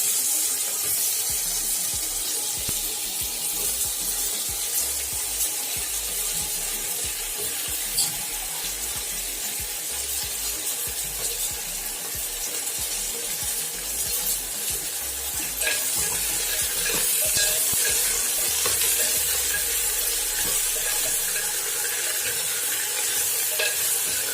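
Small brinjals frying in a clay pot, giving a steady, dense sizzle with stirring scrapes throughout, loud and close with no talking.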